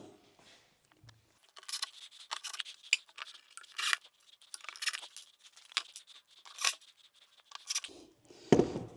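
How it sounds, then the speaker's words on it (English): Screws are driven by hand into a display rack frame in a run of short, scraping, ratcheting bursts separated by brief pauses, close and moderately quiet, ending with a louder clunk. "the first thing I'm going to do is just put the screws in to tighten these down"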